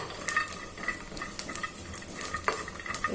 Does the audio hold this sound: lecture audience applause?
no